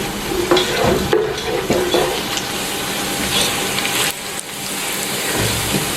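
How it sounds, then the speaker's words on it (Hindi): Whole spices fry in a pot of hot oil with black peppercorns, cloves, cinnamon pieces and black cardamom: a busy, crackling sizzle with occasional stirring scrapes, close and steady. "इसको हम हल्का सा फ्राई करेंगे मसालों को।"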